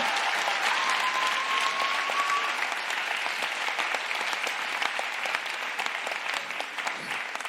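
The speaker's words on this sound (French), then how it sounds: "on peut encore l'applaudir une fois très très fort." Loud, dense audience applause fills a hall at a university thesis-presentation contest final, sustained and steady throughout with no speech over it.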